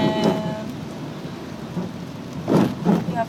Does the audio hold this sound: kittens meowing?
no